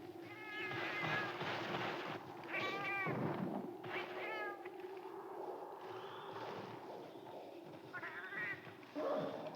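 A cat meows repeatedly in a video game about doing village chores, several drawn-out, wavering meows spaced across the stretch over a low background hum, with no talking.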